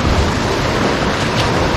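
Sea waves rolling in with strong wind buffeting the microphone, a loud, steady, continuous roar with no voices.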